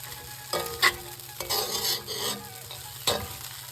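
Tamarind poha frying with jaggery in a pan, a soft steady sizzle under repeated stirring scrapes and a few sharper clicks of the spoon against the pan, close and with no talk.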